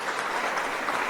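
A church congregation applauding to welcome guest pastor Shim Jae-geon and his wife, a dense, steady burst of clapping heard briefly and fairly close.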